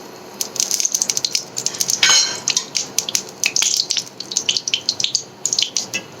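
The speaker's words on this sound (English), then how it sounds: "We'll start with frying the nuts. I'm adding some clarified butter," Nuts fry in hot clarified butter (desi ghee), a busy stream of sharp sizzling pops and spatters with a utensil scraping the pan partway through.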